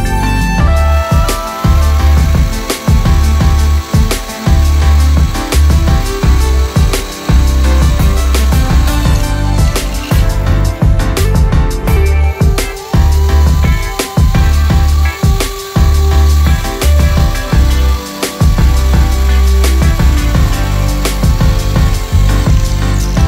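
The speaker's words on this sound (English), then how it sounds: "Alright, so I gotta drill out those holes." Holes are drilled out in metal for a Gobi rack tree-limb riser mod on a Jeep, a loud, close drill whining in repeated bursts with short stops between holes, no talk.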